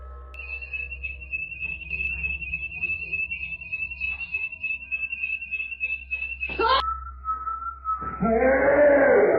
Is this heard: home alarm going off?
yes